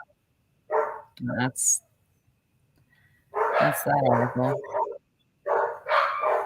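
House dogs bark in loud, close bursts at another dog passing outside on the sidewalk, clustered in two rough groups with quiet gaps, while a person speaks briefly between them.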